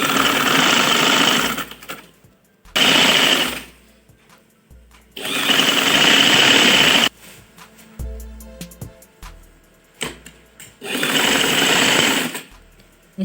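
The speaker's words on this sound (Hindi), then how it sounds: "ये बिल्कुल किनारे पे सिलाई लगाएंगे" A sewing machine stitching a seam along the edge of a net kurti, running in several loud bursts of rapid whirring separated by pauses with light handling clicks.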